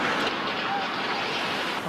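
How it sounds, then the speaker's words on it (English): Tsunami waves strike the coast at Ofunato, Japan, as a loud, continuous broadband roar of rushing water with no break or clear individual wave crash across the whole stretch. "This is Ofunato, where the wave hit first."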